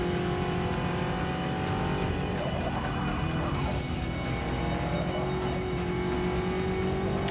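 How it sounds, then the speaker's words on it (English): A race car in Forza Motorsport 6 is thrown hard into corners, its engine droning steadily at high revs with shifting pitch and occasional tire noise, loud and continuous throughout. "So throwing the car much more into the corners now"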